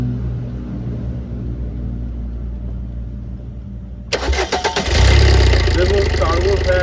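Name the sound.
Maruti Suzuki Brezza car engine starting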